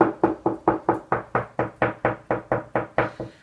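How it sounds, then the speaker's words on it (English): Knuckles rap on a plasterboard wall in about a dozen steady, evenly spaced knocks, moving along its surface, with the tone dulling where a batten sits behind the board. The knocks are close and clear, with no voices. "So as I go along the wall, you can hear that the sound deadens when I meet the batten."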